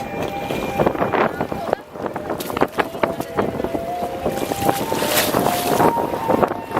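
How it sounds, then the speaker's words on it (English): Strong wind buffeting the microphone in heavy rumbling gusts in the French Quarter, with splashing water and occasional voices underneath. "explain what was happening during all of that wind"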